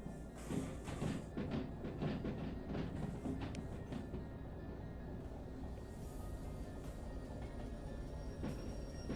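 Two diesel locomotives run coupled together in the train simulation game Derail Valley, a steady heavy rumble with clanking thumps and rattles of rolling stock, continuous and fairly loud with no talk.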